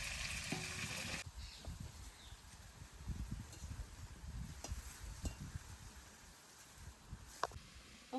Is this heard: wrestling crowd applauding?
no